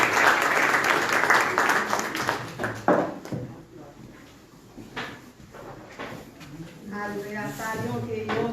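Congregation at a church worship service applauding to welcome a speaker forward, a dense burst of clapping in the first few seconds that thins out, followed by talk and background sounds.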